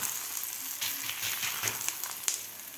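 A bajra thalipeeth fries in oil on a pan, a steady close sizzle with a few sharp crackles and pops scattered through, no voices over it.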